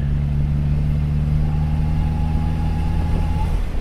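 A turbocharged 2016/2017 Chevy Cruze engine hums steadily under load while building boost, with a sustained low drone and a faint whine rising partway through, close and continuous.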